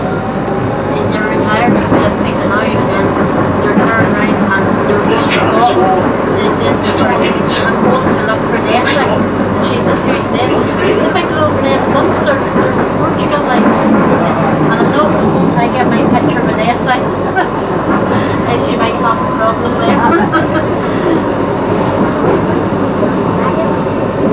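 Riding a Blackpool tram, with a loud continuous rumble of wheels and motor filling the cabin throughout, voices faintly present beneath the steady running noise.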